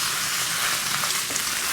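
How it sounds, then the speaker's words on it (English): Kalbi, Korean marinated beef short ribs, sizzles steadily on a hot grill, a loud, dense crackling hiss that runs without pause and without voices. "Love the sizzle."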